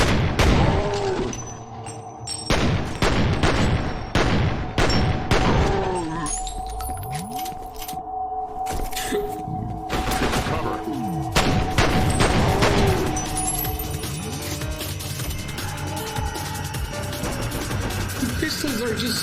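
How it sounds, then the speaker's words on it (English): Pistol gunfire in the shooter F.E.A.R. Perseus Mandate: sharp, loud shots come in quick clusters during the first half, then the firing thins out into sparser shots and other game noise. "Pistols are just beautiful. Just 4 shots to the head."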